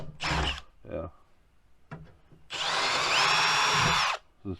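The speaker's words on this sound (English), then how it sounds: "So I'm gonna take 5/16 drill bit and I'm gonna drill these out" A power drill fitted with a 5/16 bit drills out holes on a Toro zero turn mower, a close, loud whirring run of over a second after brief bursts, with talk around it.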